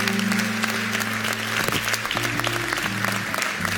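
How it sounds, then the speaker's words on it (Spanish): A church congregation claps steadily over a sustained organ or keyboard chord during an evangelical service, the applause dense and continuous throughout. "Vámonos, un aplauso"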